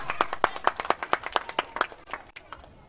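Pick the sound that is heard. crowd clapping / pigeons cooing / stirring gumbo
crowd clapping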